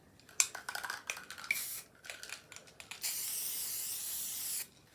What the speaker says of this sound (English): So I thought I'd just give it a quick spray and see what it comes out like.